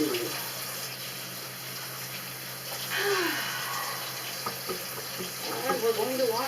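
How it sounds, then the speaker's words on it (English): A tap runs steadily into a sink for handwashing in a home kitchen while pork is being prepared, a soft continuous wash of water with some faint background activity. "we're off to wash our hands"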